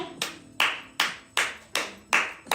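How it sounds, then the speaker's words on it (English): Hands clap six times in a steady, moderate rhythm, each sharp close crack fading quickly before the next, with no talking. "we clap our hands"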